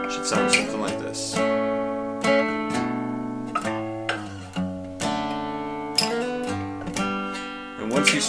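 An acoustic guitar plays a riff of ringing plucked notes and strummed chords, repeating in a relaxed rhythm up close.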